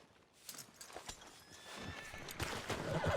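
A horse whinnies and snorts in the video game Red Dead Redemption 2, with hoof clip-clops and rustling movement building toward the end; moderately close, no talk.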